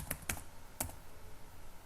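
Computer keyboard typing a command, a few quick close clicks in short bursts, quiet and isolated.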